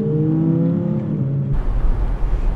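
A Ferrari 488 Spider accelerates hard ahead of a following Audi R8. A loud, rising engine note swells, then breaks into a deep, rough roar.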